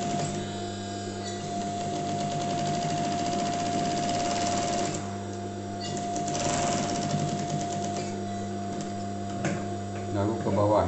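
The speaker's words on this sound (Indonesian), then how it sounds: "Kemudian kita jahit di sini." A sewing machine stitches along the lip edge of a welt pocket, its steady mechanical whir running close and continuous for several seconds with brief pauses, while someone talks over it.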